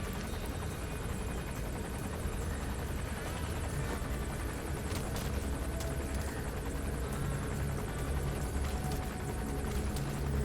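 A helicopter gunship in the video game Metal Gear Solid V gives a constant loud rotor and engine drone with a dense, even texture throughout, no voices.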